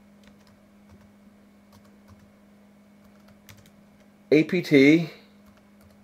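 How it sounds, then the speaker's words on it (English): Computer keys clatter in a quick burst of typing as a terminal command goes in on a Pop OS Linux machine, loud and close after a quiet stretch, with a short word spoken over a low hum. "I'm going to key in just G and autocomplete with the tab"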